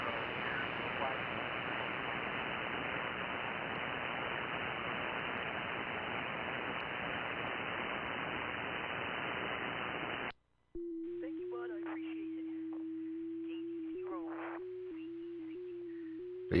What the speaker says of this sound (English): So yeah, that's FT8.